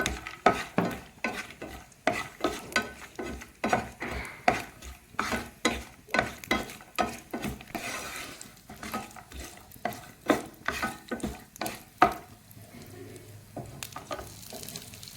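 Cashews stirred in a pan for shahi zarda over low heat, a steady run of close scraping stir strokes with a light sizzle underneath, repeating rhythmically throughout.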